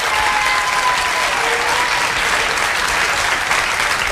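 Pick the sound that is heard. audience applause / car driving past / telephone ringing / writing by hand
audience applause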